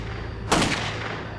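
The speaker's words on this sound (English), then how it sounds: "a quiet night echoes with gunshots" A single sharp gunshot cracks out on a quiet night, a sudden loud burst that decays quickly into the steady low background rumble.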